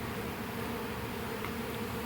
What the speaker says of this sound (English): I still have some more bees in that bucket right there